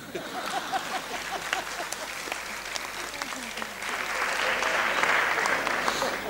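Large audience at an awards ceremony applauding loudly and continuously, a dense wash of clapping that swells louder in the second half, with faint background voices.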